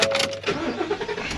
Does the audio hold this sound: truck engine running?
yes